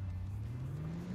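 A steady video game car engine hums and slowly rises in pitch as it accelerates, continuous and moderately loud with no voices.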